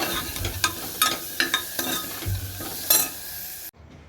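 A potato, pointed gourd and soybean curry is stirred in a hot pan, with repeated scraping strokes over a soft sizzle before the sound cuts off abruptly.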